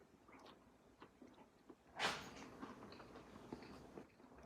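A single sharp crunch of biting into crispy grilled beer can chicken skin, fairly close, followed by faint chewing sounds in a quiet room.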